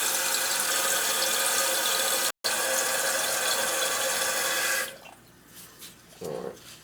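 Water rushes steadily into a toilet tank being repaired, a loud continuous hiss that cuts off abruptly near the end, leaving faint clicks and a brief gurgle.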